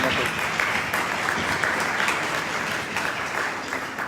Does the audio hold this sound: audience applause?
yes